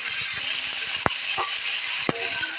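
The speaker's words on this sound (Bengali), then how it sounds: "আলুটা এখন ভেজে নিব লাল লাল করে" Potato pieces fry in hot oil with a loud, constant hiss and sizzle, broken by a couple of brief sharp spatters or utensil taps.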